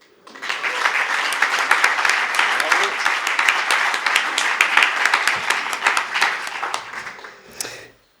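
An audience at a French lecture on ultra-endurance sport breaks into sustained applause, dense clapping that swells quickly, holds steady for several seconds and then fades out.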